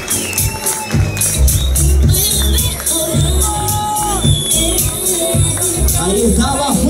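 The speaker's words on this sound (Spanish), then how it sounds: "¡Más fuertes aplausos!" Loud crowd cheers and applauds for the winner of the talent contest at the Mr Gay Chile pageant, a dense roar lasting throughout with music and mixed voices underneath.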